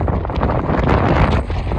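Strong wind buffeting a microphone in an open field during sunflower cultivation with a tractor, a loud, continuous roaring rumble with gusty surges.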